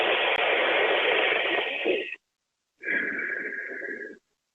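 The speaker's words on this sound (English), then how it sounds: "I might stick my tongue out, breathe through my teeth, called Shitkari pranayama" Two long, loud hissing inhalations drawn through the teeth in Shitkari pranayama, a yoga breathing practice. The first is longer and the second follows after a short silence. Both are heard close up with no talking.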